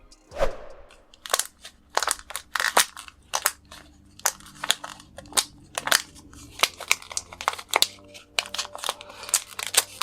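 Rapid crinkly crunching and clicking bursts from a squeezed fidget toy, irregular and close, continuing for several seconds.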